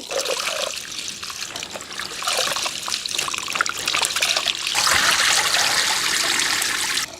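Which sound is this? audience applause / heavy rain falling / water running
water running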